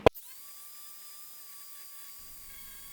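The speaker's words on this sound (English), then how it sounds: "grinder will take care of that" A grinder spins at a steady high-pitched whine, clearing epoxy and melted plastic from a cast bowl in a woodturning shop. It follows a sharp click at the start, with a low rumble creeping in near the end.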